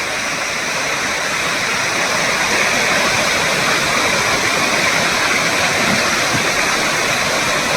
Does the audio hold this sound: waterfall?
yes